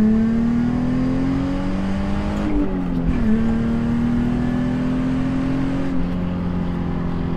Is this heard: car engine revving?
yes